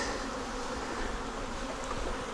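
Swarm of honey bees giving off a dense, continuous buzzing drone that sounds close and steady throughout, with no speech.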